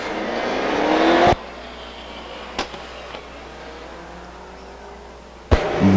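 Stock cars race at Stockton 99 Speedway. A loud burst of engine roar cuts off abruptly, leaving faint distant engines under a brief crowd-like murmur, then another sharp loud burst returns at the end.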